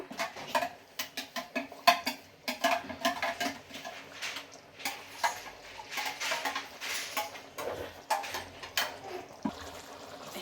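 A spoon stirs white alasande (black-eyed) bean masala in a metal pot, giving irregular clinks and soft wet scraping that repeat steadily and close by with no talking.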